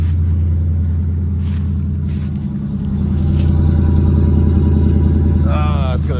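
Old SS car engine running at a loud, steady idle with deep low rumble throughout and a slight rise partway through.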